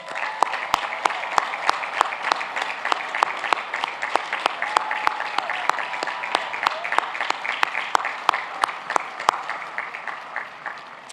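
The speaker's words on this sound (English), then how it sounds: "Please join me in recognizing these outstanding students with a round of applause." Graduation audience applauding steadily at a university commencement ceremony, a dense sustained round of clapping with sharp individual claps standing out, moderately distant, no talk over it.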